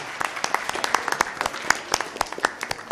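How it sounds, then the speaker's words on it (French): Audience applause at a high school debate quarterfinal in Dakar, a steady patter of many hands with sharp individual claps standing out, fairly close and continuing for the whole stretch. "Il faut les applaudir aussi"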